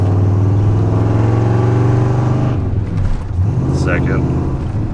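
A worn-out Ford F250 truck accelerates with a loud, steady engine drone that dips partway through as it shifts gears, heard from inside the cab with a voice talking over it.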